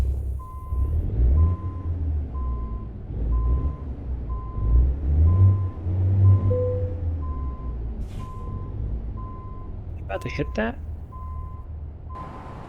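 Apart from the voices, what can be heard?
truck reversing beeps while backing in, American Truck Simulator video game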